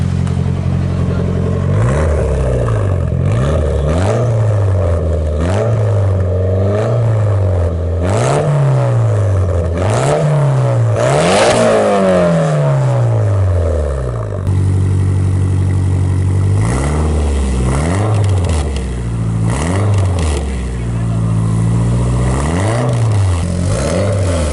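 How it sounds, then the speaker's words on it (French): A drift car's engine, not yet restricted, revs hard again and again, loud and close, climbing and dropping in repeated sweeps from a rough idle, with one long high rev in the middle. "France, fais écouter le bruit avant qu'on bride tout ça."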